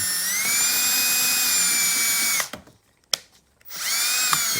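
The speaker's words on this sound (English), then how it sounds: "I'm just lapping the valves in right now." A power drill whines at a high steady pitch while lapping the valves of a 6 HP Famous International Harvester stationary engine head, then stops abruptly, leaving near silence before winding back up loud and close.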